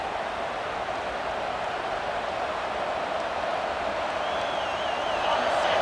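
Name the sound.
home football stadium crowd on third down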